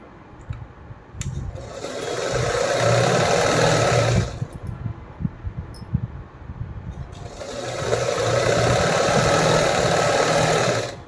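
A sewing machine stitches two pieces of fabric placed right sides together in two steady whirring runs separated by a brief pause, close and loud with no talk.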